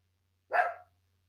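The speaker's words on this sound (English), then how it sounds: "My dog's hearing noises outside." A single dog bark, short and fairly loud against an otherwise quiet room with a faint low hum.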